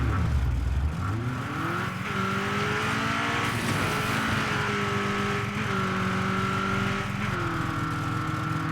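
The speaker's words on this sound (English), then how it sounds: "when the engine is kind of dead, well, running out of fuel, the audio on the car sounds nicer. I like the rumble" A car engine in the State of Decay 2 video game rumbles steadily while running out of fuel, with a low growl and a sliding, wavering pitch that shifts up and down throughout.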